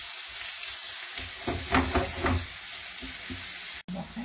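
Garlic sautés in a pan with a quiet, close sizzle, a few scraping stirs clustering in the middle before the frying settles to a gentle hiss.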